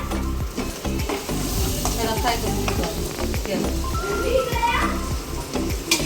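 Spices are stirred and fried in a pan for a vegetable dish of eggplant, potato, chickpeas and peas, giving a steady sizzle with repeated scraping strokes. Voices, including children, are heard throughout.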